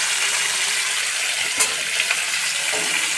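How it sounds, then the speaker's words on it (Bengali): Chopped capsicum frying with a little salt in a hot pan for a vegetarian dal, a steady bright sizzle that fills the whole stretch, with a few faint clinks of stirring and no talk. "হালকা একটু আমি নুন দিয়ে ভেজে নিচ্ছি"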